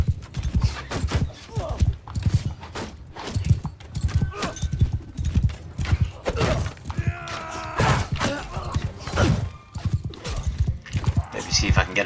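A horse in the Mount and Blade II: Bannerlord video game clip-clops at a rapid, steady gallop, loud and rhythmic, with crashing impacts and a whinny, while someone talks over it.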